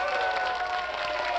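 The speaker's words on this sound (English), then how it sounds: "I got to give you another round of applause" An audience applauds a folk and blues singer, a brief, steady burst of clapping with a faint cheer, heard alone.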